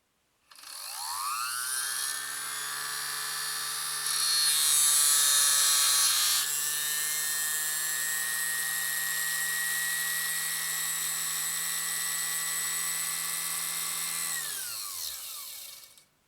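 A 1958 Czech LADA T-132 sewing machine motor, run by knee controller, whirs up to a steady high-pitched hum, holds for about fourteen seconds with a brief louder surge, then winds down and stops.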